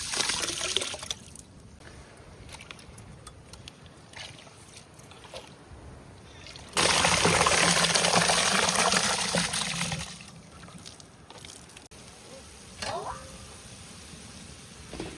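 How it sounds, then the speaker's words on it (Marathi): Water sloshing and splashing as grains are swirled and rinsed, with a louder burst of running water in the middle; close and steady, no talking. "या दोन पाण्यानं हे तांदूळ धुवून घेतो"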